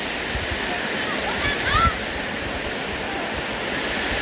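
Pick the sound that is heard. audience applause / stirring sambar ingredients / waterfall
waterfall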